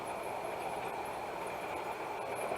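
A model railroad train runs into the helix, a steady rolling clatter and mechanical whir at moderate distance with no talk.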